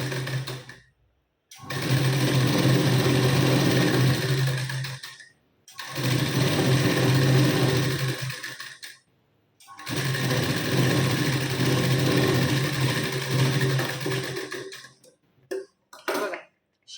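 A sewing machine stitching a band onto a blouse sleeve runs in three long, steady bursts of whirring motor and needle clatter, separated by brief pauses, ending with a few short stuttering stitches.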